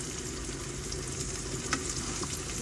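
Vegetable bhaji sizzles steadily in a hot pan, a dense continuous frying hiss at even loudness with a faint clink partway through and no voices.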